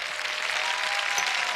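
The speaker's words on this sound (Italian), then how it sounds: "No, l'applauso è ora." Brief, dense studio-audience applause on an Italian television show, loud and even from start to finish, with no talk over it.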